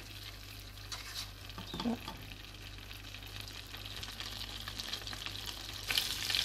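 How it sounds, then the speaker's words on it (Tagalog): Butter heating in a frying pan for fried apples, a soft continuous crackling sizzle with occasional stirring clinks, close and quiet throughout, with one brief spoken word. "painitin natin yung butter"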